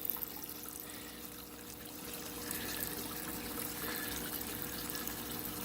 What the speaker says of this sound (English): that's why we get so much overflow going over this side